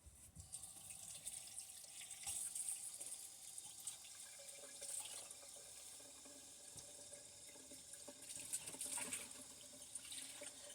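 A small home kitchen tap runs steadily onto a baking towel to dampen it, a soft continuous stream with faint splashing and occasional drips.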